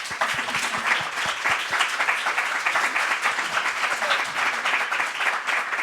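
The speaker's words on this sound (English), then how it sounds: "Can we give this panel a round of applause?" An audience claps steadily for a business panel at a National Small Business Week evening event, a dense and continuous round of applause with no talking over it.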